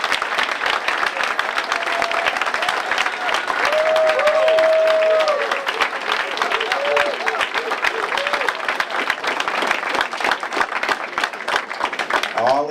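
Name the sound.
audience applause at mayor's speech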